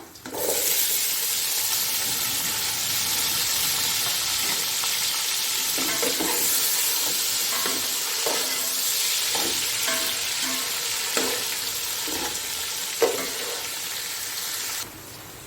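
Onions frying in hot oil for chicken pulao give a loud, steady sizzle, broken by regular scraping and clacking as a spoon stirs them, close and with no voices.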